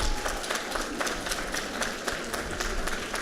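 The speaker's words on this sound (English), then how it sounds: "give him an extra round of applause" Audience applause at a District 3 community meeting, dense and steady crowd clapping with a continuous wash of sound filling the whole moment, close and fairly loud.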